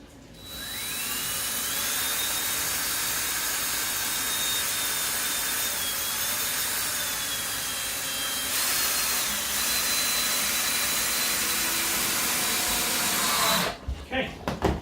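A power drill drives a screw into a wooden aquarium stand, giving a loud, steady high-pitched whine that holds for about thirteen seconds before cutting off abruptly.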